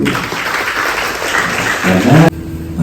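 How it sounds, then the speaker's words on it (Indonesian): Loud, close applause from a gathered crowd at a home gathering, dense and sustained before cutting off abruptly near the end, with a brief voice-like tone underneath. "tentu tepuk tangan yang mulia buat Nyonya Mirtisa"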